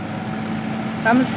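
A farm tractor engine hums in a low, steady idle-like drone, with a brief louder voice-like burst near the end over the running motor.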